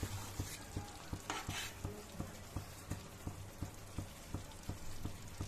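Egg curry (kodi guddu pulusu) stirred in a pot gives a quiet, steady run of evenly spaced soft ticks and bubbling, with a faint sizzle underneath and no voices.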